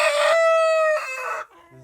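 A chicken at a farm animal sanctuary lets out a loud, drawn-out, crowing-like call up close, then a shorter, softer trailing call, with no talking.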